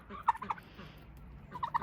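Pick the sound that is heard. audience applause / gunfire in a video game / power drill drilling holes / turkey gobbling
turkey gobbling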